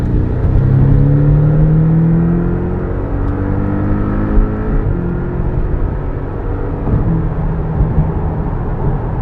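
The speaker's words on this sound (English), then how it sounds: "It accelerated, got me out of the little jam behind a truck, but it did it so badly." A Porsche 718 Boxster S accelerating from inside the cabin, a loud droning engine note rising in pitch over the first seconds and then settling into a steady, rough hum with road noise.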